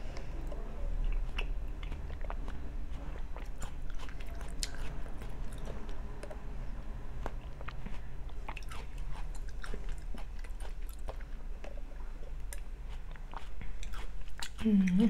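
Crunchy, close chewing of cheese-topped bread and water chestnuts, with steady wet bites and crisp crackles running throughout, plus a few faint voice-like sounds.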